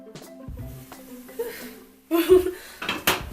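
A lid clanks as a pot of cooking quinoa is opened, with metallic rattles and a ringing scrape near the start and further clinks later, close by and fairly loud.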